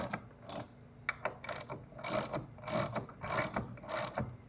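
A ratchet tightens bolts on the torque tube of a C5 Corvette during a rebuild, giving close, repeated bursts of rapid clicking with short pauses between strokes.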